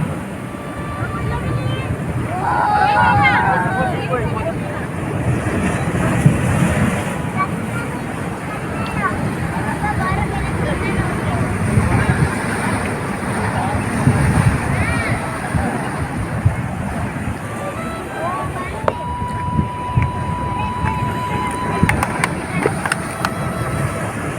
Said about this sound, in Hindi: ये मछुआरों की नाव है।